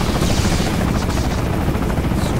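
A helicopter in the video game Bulletstorm thrums loudly and continuously with a dense rotor beat, and bursts of gunfire are mixed in.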